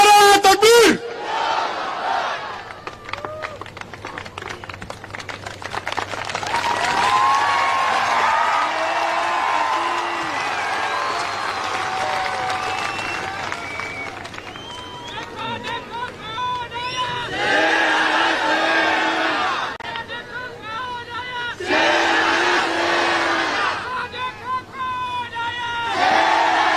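A large crowd at a political rally roars back in response to a Nara-e-Takbir chant, loud sustained shouting and cheering with repeated surging waves of voices near and far.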